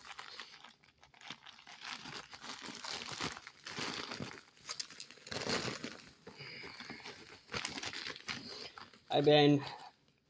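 Plastic packaging crinkles and crackles in close bursts as a pre-cut package is unboxed, with a sharper rustle near the end.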